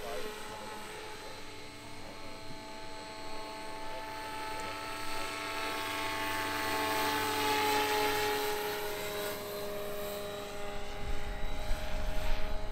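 An electric XL model Eurocopter EC-145 in ADAC livery hovers with a steady whirring rotor and high motor whine, fairly faint and continuous, while someone speaks over it.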